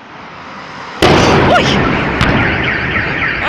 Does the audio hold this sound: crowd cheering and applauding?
no